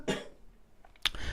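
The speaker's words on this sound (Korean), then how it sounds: "제가 감기가 걸려서 좀 기침이 많이 나옵니다." A person with a cold coughs twice, one short harsh cough at the start and another sharp one near the end, separated by a quiet pause, close and fairly loud in an indoor lecture setting.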